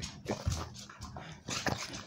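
A small dog whimpers and yips in short, high, nasal bursts, several in a row at close range, with a faint sound of movement and no talk.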